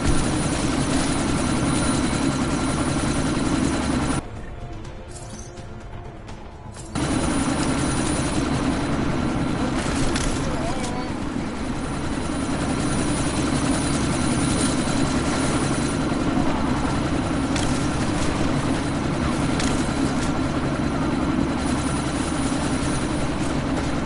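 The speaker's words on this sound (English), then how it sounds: "That chopper's about to take off." A helicopter lifts off in the video game Deus Ex: Mankind Divided, its loud, steady rotor roar and engine drone filling the whole stretch, dipping briefly before surging back, with no talk.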